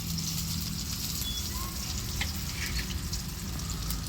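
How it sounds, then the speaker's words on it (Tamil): Onions and curry leaves sautéing in a pan over a wood-fired stove, a steady dense sizzle and crackle holding at an even level throughout, with no voices. "இது ரெண்டுத்தையும் நல்லா வதக்கிக்கலாம்"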